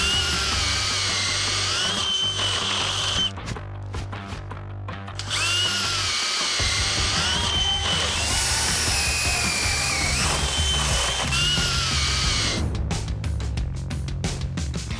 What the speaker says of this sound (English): It's gonna pull the bit right through the wood.